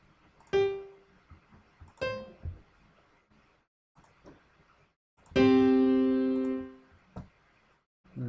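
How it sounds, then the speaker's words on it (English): Single keyboard notes struck a few times, two short plucks, then one longer sustained tone that fades out, with quiet clicks between. "So on a keyboard, I just play like a middle note right here."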